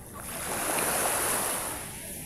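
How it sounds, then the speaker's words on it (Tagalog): Waves wash onto the shore of a clean, quiet sea in the early morning, a broad hissing surge that swells to a peak midway and then recedes. "Napakalinis ng dagat."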